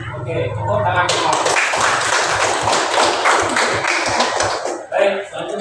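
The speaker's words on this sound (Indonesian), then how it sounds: "Oke, tepuk tangan semua." A classroom of children claps together in a loud, dense burst of quick hand claps that lasts several seconds, with a few voices and laughter mixed in before it fades.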